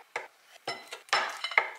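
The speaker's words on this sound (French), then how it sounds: "Dans un saladier, je vais venir mettre mon tofu coupé en cubes." Cubes of tofu dropped into a salad bowl, making several light, close clinks and taps in an uneven sequence over about two seconds, with no talking.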